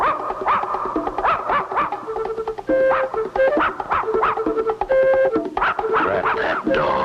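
Cartoon dog Paddlefoot yaps and barks in quick, close bursts over a busy musical score with tonal stings, the barks repeating throughout at a lively pace.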